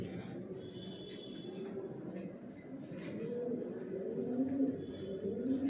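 Pigeons in a pigeon loft coo in soft, low, overlapping rolls that swell toward the end, with a few faint chirps and a quiet background murmur.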